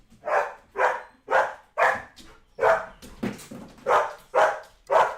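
A dog barks repeatedly at a steady rhythm, about ten loud, close barks with short gaps between them, as someone arrives home, and no voices are heard.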